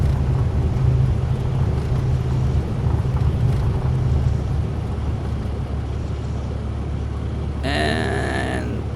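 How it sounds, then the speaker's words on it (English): Light aircraft rolling out after touchdown at Courchevel's short mountain runway, with a loud steady engine and road-like rumble as it brakes, fading slightly, then a brief tonal chime near the end. "full braking."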